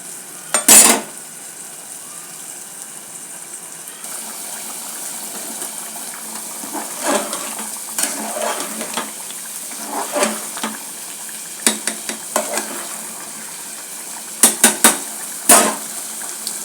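Rayalaseema-style mutton biryani with basmati rice bubbles away in a pot: a steady hiss and simmer broken by a few sharp scrapes and clinks of stirring, close and alone.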